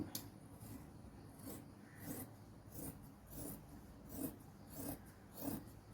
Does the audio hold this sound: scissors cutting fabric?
yes